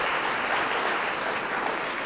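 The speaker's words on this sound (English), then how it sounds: "or a really big round of applause" A conference audience at a hardware and IoT founders' pitch event gives a round of applause, a steady wash of clapping from a large crowd throughout, a little distant in the hall.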